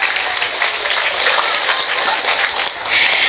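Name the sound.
audience applause for the village head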